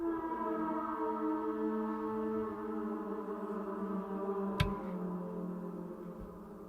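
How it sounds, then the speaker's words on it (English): A sampled Tibetan kangling, a death flute carved from a human femur, sounds a sustained, harmonically rich, moaning tone drenched in heavy reverb, with a brief sharp click partway through and a long wash trailing behind. "It's Tibetan death flute, and it's fashioned out of a human femur."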